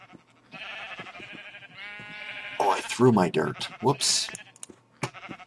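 Sheep in a survival map-making video game bleat several times, wavering calls rising over a quiet background, while a person talks over them.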